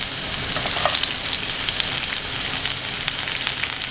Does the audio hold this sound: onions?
yes